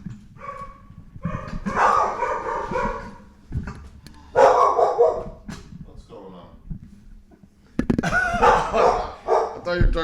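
Dogs barking and yipping in bursts, fairly close, with someone talking over and between the barks.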